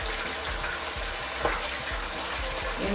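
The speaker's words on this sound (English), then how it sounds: "you hear the meat is kind of frying up a little bit" Continuous sizzling crackle of meat frying in a pan for eggplant stew, close by and fairly quiet, with a few faint knocks underneath.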